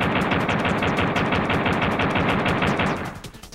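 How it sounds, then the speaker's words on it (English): Rapid automatic gunfire from Duke's pistol in a video game, as a Gameshark cheat code is tested, with loud, fast, evenly spaced shots packed close together for about three seconds before the firing trails off. "Then return to the game and fire some bullets."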